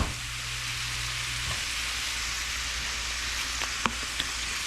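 A little over a pound of ground beef sizzles and browns in a pan, with a steady close frying hiss throughout and a few faint clicks of a utensil near the end.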